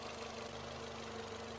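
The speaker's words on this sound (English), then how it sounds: "Even though the engine seems to be running fine, every now and then you can actually hear that it has some minor misfires." A Ford Fiesta 1.25 engine idles steadily and close up with no talking, a continuous low rumble carrying a faint uneven beat from minor misfires.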